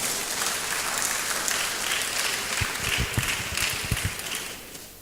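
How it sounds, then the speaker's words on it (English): An audience at a university public lecture applauds a guest lecturer, a steady wash of many hands clapping at moderate distance, with a few louder close claps standing out near the end as it starts to fade. "our guest lecturer deserves a very big round of applause"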